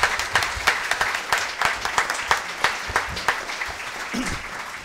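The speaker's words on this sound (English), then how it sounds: "give a warm round of applause to our four panelists for a fantastic" Audience applause for four panelists after a discussion on the 2019 Thai elections, moderately loud, with distinct individual claps standing out through the steady patter.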